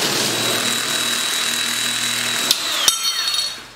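A 10 gauge power nibbler chatters loudly and steadily as it cuts 18 gauge sheet metal, a close, whining rattle that ends with a couple of sharp clacks.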